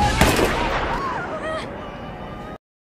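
Gunshots in the film The Crazies: a sharp burst of shots near the start, fading into muffled noise and brief voice-like sounds before the sound cuts off abruptly.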